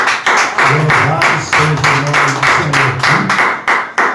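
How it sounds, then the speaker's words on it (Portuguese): A church congregation claps hands in rhythmic bursts, loud and close, with a voice speaking over the clapping throughout. "Quem pode dar uma salva de palmas?"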